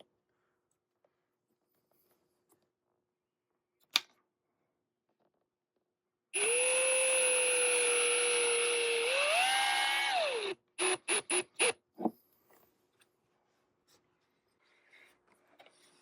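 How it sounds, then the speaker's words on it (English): Screws being removed from a curtain mount inside an RV: a steady motorized whine for about four seconds that rises in pitch before cutting off, followed by a quick run of sharp clicks and a few faint knocks. "So we remove the two screws"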